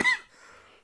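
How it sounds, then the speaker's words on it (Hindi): A single sharp, close cough bursts out loudly and then trails off into a brief, fainter tail, with no talk alongside it. "हम आपके कान में खांस दे रहे हैं"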